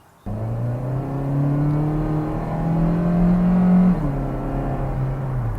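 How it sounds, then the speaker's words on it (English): A 2018 Hyundai Elantra GT GLS with an automatic transmission drives along, its engine a steady, moderately loud whine that rises in pitch as it accelerates, then dips after a gear change. "So you can kind of hear the engine a bit with the automatic transmission. It's not a loud grumble. It's kind of a higher pitched whine"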